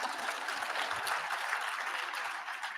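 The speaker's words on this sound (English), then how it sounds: "you go ahead and clap" Audience at a homelessness conference fireside chat applauding, a steady, fairly dense wash of clapping hands at moderate volume, sustained evenly without speech.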